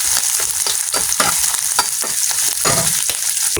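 Dried fish frying in hot oil in a wok, a loud, steady crackling sizzle with small pops running throughout, close up and with no talking.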